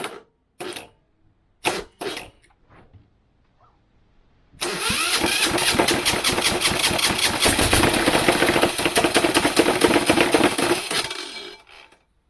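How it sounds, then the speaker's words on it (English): A bargain 186F single-cylinder diesel engine, fed starting fluid down the intake, cranks through a few short bursts, then catches and runs steadily and loud at close range for about six seconds before cutting out, with no talk. "it will run if I squirt some starting fluid down the intake"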